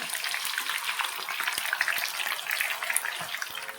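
Pieces of batter dropped one at a time into hot oil for a Tamil fried snack, crackling and bubbling steadily and close, with dense spitting pops throughout.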